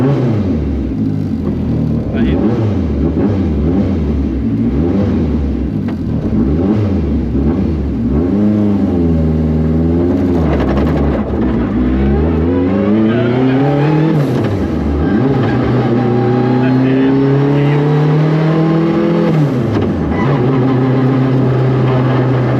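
A 500 hp, 1100 kg works Lancia Delta Integrale rally car engine revs hard from inside the car, rising and falling pitch sweeps through gear changes, loud and close, with people talking under the engine.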